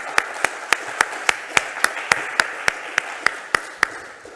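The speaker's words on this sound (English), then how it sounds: "So I'd like to have a round of applause for AWS, Fastly, and CDN 77." Audience at the GNOME Foundation annual general meeting at GUADEC applauding sponsors AWS, Fastly and CDN 77: a steady crowd clapping with sharp, evenly spaced loud claps, likely from one person near the microphone, standing out above the rest.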